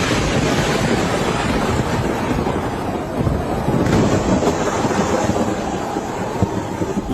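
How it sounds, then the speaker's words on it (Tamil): Deep rolling thunder from a cloudburst storm over the Dehradun hills rumbles continuously and loudly, blended with heavy wind and rain noise throughout. "மிரள வைக்கும் மின்னல் காட்சிகளும் பேரிடியின் சத்தங்களும்"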